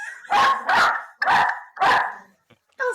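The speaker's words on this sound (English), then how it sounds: "you hear my dogs?" Dogs bark loudly and close by, giving four strong barks in a quick run and then a short yelp after a brief pause.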